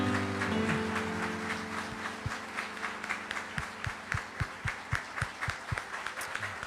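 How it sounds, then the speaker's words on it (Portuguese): A church congregation applauds after a sermon, a dense wash of clapping that settles into a slower, louder rhythmic beat of clear claps in unison, with faint sustained tones underneath. "E nós vamos aplaudir ao Senhor pela vida do pastor Jefferson."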